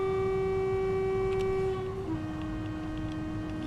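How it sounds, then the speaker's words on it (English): A sustained train horn from a Class 700 train in Train Sim World sounds loudly with steady tonal harmonics, then its pitch shifts slightly and it continues over a constant rumbling engine drone. "Yeah, the horn sounds are better."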